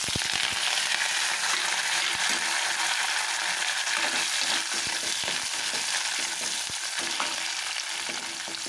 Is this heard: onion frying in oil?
yes